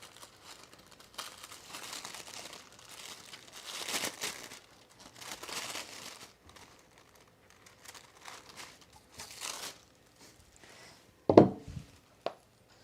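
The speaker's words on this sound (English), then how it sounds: "Let's pull this through the paper." Paper sewing pattern crinkles and rustles in repeated soft bursts as fabric is drawn through it while a blouse is cut, ending with a sharper louder crackle near the close; no talking.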